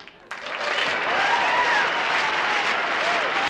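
Wedding guests at a church wedding in Abuja burst into a sustained round of applause and cheering after a sudden start, a dense crowd clapping steadily for a few seconds.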